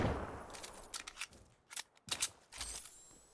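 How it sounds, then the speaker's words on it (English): Reloading a thermal-scoped assault rifle in Fortnite, a quick series of close metallic clicks, snaps and sliding clacks over a few seconds, with no talk. "So I need to reload this."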